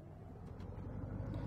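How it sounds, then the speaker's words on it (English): A Duramax truck engine running in Farming Simulator, a steady low rumble that swells slightly in level, heard alone without talk. "we'll get the Duramax started back up"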